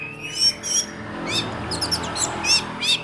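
An orange-headed thrush calls near a house in a quiet residential setting, giving several bright, whistled phrases in short bursts separated by pauses, loud and close against a soft background hum.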